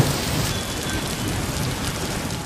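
Heavy monsoon downpour in Olpad taluka near Surat, a dense, steady roar of rain pounding surfaces with low rumbling beneath, continuous and loud with no voices.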